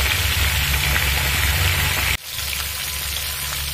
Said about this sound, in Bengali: এবার দিয়ে দেবো ফুলকপিটা একটু মিডিয়াম ফ্লেম করে ভাজবো